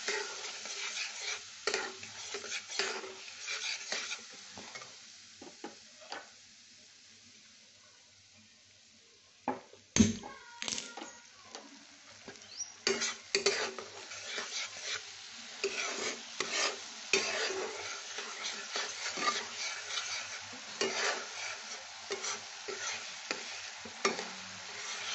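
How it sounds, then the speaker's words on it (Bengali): Spiced hilsa fish curry with eggplant sautéing in a pan, with bursts of sizzling and repeated scraping and stirring clatter of a spatula, a brief quiet lull before the stirring resumes. "এটা কষে নেবো"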